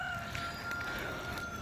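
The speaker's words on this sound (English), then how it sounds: "They've got a few roosters." A rooster crows faintly in a quiet outdoor neighbourhood, a thin call held steady and then rising, over low background hum.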